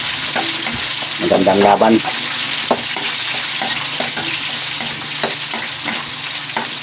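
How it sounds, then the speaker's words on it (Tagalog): Onions dropped into hot oil in a frying pan for an ampalaya dish, a loud burst of sizzling that settles into a steady close crackle with occasional stirring clinks and a brief spoken remark. "Tapos ilagay natin yung sibuyas"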